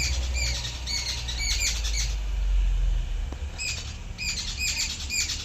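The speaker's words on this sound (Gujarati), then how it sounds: "અને બર્ડ્સ બોલે છે સવારમાં।" Morning birds chirp in quick bright bursts in Dhanera, India, pausing briefly and then resuming, over a steady low background hum.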